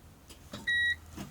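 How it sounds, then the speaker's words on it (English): A single short electronic beep, clear and steady, signals a Citroën Ami electric car is ready, sounding inside the quiet car amid faint rustling and mechanical clicks. "That little beep means it's ready."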